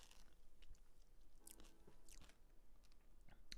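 Chex Mix being bitten and chewed close up, a few quiet, brittle crunches scattered over a few seconds with no one speaking.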